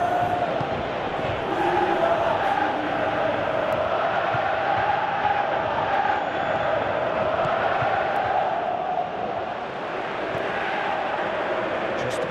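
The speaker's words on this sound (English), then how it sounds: "you can hear how the crowd are reacting to this too" Large football stadium crowd at a World Cup match, a dense continuous roar that swells and holds from a distance, broad and loud throughout with no single voice standing out.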